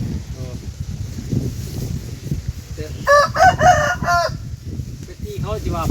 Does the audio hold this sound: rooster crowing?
yes